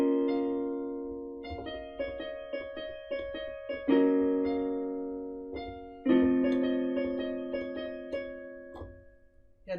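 Solo piano plays a song's chorus, a clear moderate-tempo run of single notes and chords, each decaying before the next strike.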